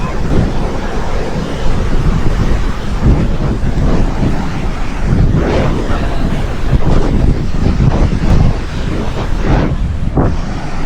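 Strong wind on a beach in Boracay buffets the microphone in loud, continuous gusty rumbles, with surf washing underneath.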